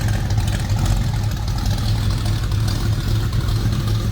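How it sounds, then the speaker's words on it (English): A Ford 351 V8, bored 40 over with a light cam, rumbles steadily at idle in a 1966 Ford F100 pickup, a continuous low, even throb heard close with no talking. "hear that 351. A little rumble coming out of it."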